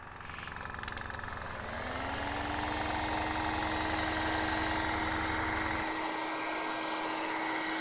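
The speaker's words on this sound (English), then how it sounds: "hot air gun on that now, speed up the process of drying." A hot air gun blows steadily to dry fresh paint on a 1/6 scale Armortek Hetzer Jagdpanzer 38 model, giving a constant close whirring roar with a motor hum that shifts in pitch partway through.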